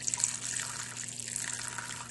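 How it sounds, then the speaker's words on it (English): Water runs steadily into a pot holding artichokes and whole garlic cloves, a continuous close splashing stream from start to finish with no talking. "now you're going to add water"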